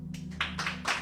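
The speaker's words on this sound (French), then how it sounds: "Amen, applaudis le Seigneur." A church congregation claps in short, uneven bursts, a few hands at a time, over a steady low hum.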